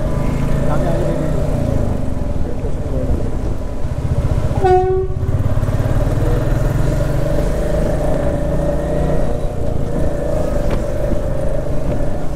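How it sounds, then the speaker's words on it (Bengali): A train runs alongside a road near Kaliachak, heard from a moving motorbike under constant wind and engine roar. A single short horn blast sounds near the middle. "এখন আমার পাশে এই যে বাঁ দিকে এইদিকে ট্রেন যাচ্ছে, ট্রেন যাচ্ছে।"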